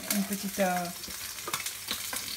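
Porcini mushrooms frying in a hot pan with oil give a steady crackling sizzle, with a few clinks and scrapes of a utensil near the start and no talk.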